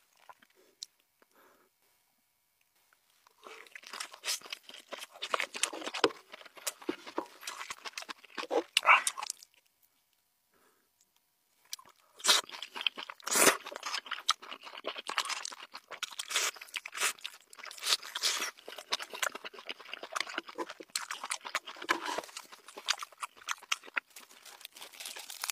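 Close, crisp crunching and chewing of burger and roast chicken with rice in quick irregular bursts, separated by a few quiet pauses, with no talking.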